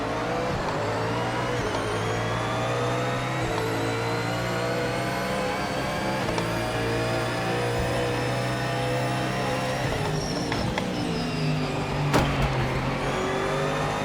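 Race car in the Project Motor Racing video game revving hard with wheel spin, a steady loud engine drone with rising and falling pitch throughout, sounding alone with no talk.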